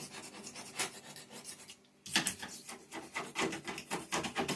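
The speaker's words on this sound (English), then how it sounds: "I went ahead and used my Hyper Tough scraper to go ahead and get the old silicone out" A Hyper Tough plastic scraper rasps old silicone caulk off a countertop beside a farmhouse sink, giving close, steady scratchy strokes that pause briefly partway through and then resume more loudly and rapidly.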